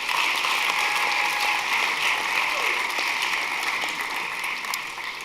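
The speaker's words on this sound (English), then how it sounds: "let's give one more round of applause for Todd Kelly Jr." An audience at a spring awards ceremony gives a sustained round of applause, dense and steady clapping that fills the room and fades slightly toward the end.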